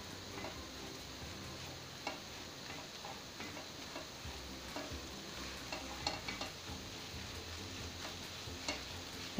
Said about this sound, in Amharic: ቅቤ ጨምርና እንደገና ትንሽ ጠበስ ጠበስ አድርገዋለሁ ማለት ነው።